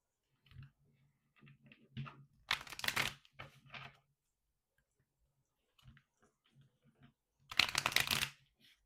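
Playing cards are riffled and shuffled in two quick rustling bursts with soft taps and fumbling between them, close and fairly quiet.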